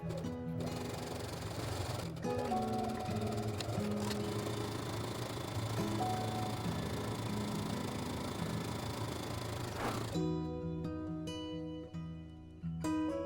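A sewing machine stitching the seams of a fabric tote bag runs steadily for about ten seconds with a rhythmic mechanical whir, then stops, leaving faint clicks and handling sounds.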